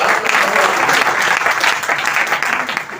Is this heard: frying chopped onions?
no